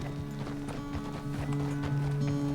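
Horse hooves clip-clop at a steady walking rhythm in Red Dead Redemption 2, close and fairly loud, over sustained low tonal game music or ambience, with no talk.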